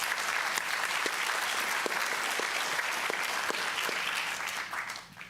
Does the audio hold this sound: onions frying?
no